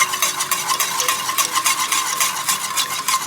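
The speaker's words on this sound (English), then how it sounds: "we're just gonna whisk that" A whisk beats flour, butter and milk into a sauce in a pan, giving quick, regular scraping and ticking strokes, close and steady with no talking.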